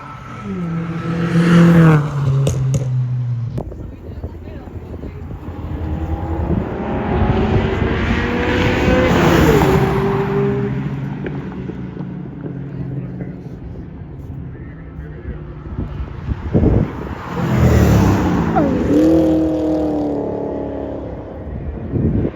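Race cars at a time attack event at Atlanta Motorsports Park roar past on hot laps, engines rising and falling as they approach and recede, with revving, gear changes and tire noise, loud and close with some voices.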